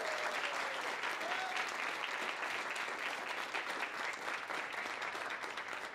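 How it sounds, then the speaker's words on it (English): A steady, dense round of applause from a graduate showcase audience cheering Digital Arts and Design presenters, sustained and fairly distant, with faint voices in the crowd. "Let's give a big round of applause to the February 2019 Digital Arts and Design Graduate Showcase presenters"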